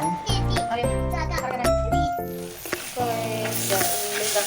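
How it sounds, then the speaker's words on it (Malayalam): Mustard seeds, dried chillies and curry leaves crackle and sizzle as they hit hot oil, with bursts of frying, light tinkling and a voice chattering over the cooking. "ഉണക്കമുളകും കറിവേപ്പിൻ്റെയും കടുകും ഇട്ടിട്ടാണ്ട് വറവിട്ട് എടുക്കുകയാണ്"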